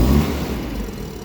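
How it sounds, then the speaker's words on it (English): A Nissan forklift engine revs, a loud mid-range engine roar that swells briefly at first and then eases off over about a second. "What I'm going to do is rev it up a couple times."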